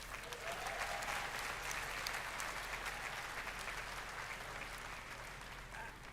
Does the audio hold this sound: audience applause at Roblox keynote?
yes